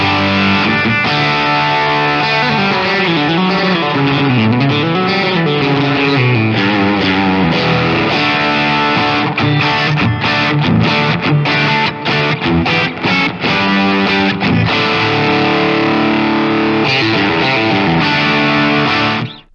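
A heavily distorted electric guitar plays loud, sustained lead lines and chugging chords, with thick saturated gain throughout and no voices.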